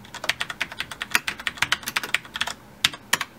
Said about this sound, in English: So it's a good mechanical keyboard with a great extra cosmetic light show.